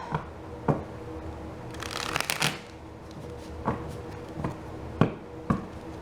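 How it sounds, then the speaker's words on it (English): Tarot cards being shuffled: sharp scattered taps and slaps, with a dense riffling burst near the middle, recorded close and clear with no speech. "One more good shuffle."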